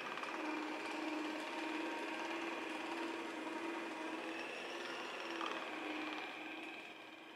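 Pizza dough being fed through a motorized dough sheeter, a steady mechanical whirring hum with faint rattling that runs for about seven seconds before easing off slightly, fairly quiet and without talking.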